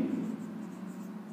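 Chalk or a marker scratches on a board during a lesson in a short, steady scrawl, close and moderately quiet, with faint room noise behind it.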